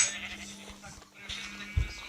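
Sheep bleating in the Minecraft video game, a short call heard among light game sounds, with people chatting faintly around it.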